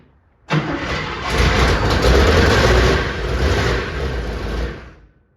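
A 1959 Chevrolet Impala engine cranks and catches, then runs loudly and steadily up close for several seconds before cutting off.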